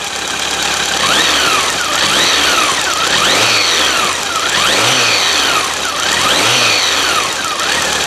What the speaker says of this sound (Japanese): このねエンジンのちょっとしたメカニカルノイズも聞いちゃおうかな